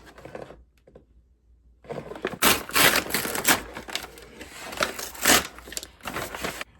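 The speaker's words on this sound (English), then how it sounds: "Let's just tear her open." A package of lights being torn open, with a quiet rustle at first and then a loud, close burst of crinkling, ripping packaging that continues in irregular crackling bursts.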